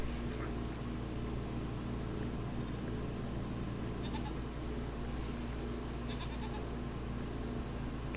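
Sheep bleat in Farming Simulator 25, a steady bed of farm ambience and insect-like hum with a few soft, intermittent bleats mixed in, no talking.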